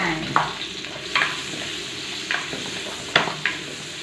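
Onions frying in a pan on a stove for a braised pork leg dish make a steady sizzle, broken by a few sharp scrapes and stirs of the spatula, close and clear with no talk.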